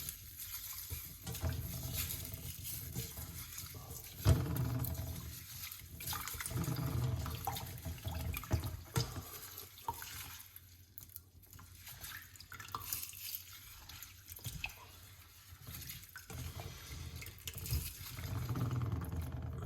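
Running tap water splashing over dried moringa leaves being washed, a soft, continuous trickle with irregular splashes and dips as hands move the leaves, fairly quiet and close.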